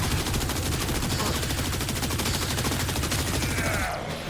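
A gun in the video game Warframe fires in rapid, continuous automatic bursts, loud and close, keeping up a steady rattling rhythm for several seconds before tapering off at the end.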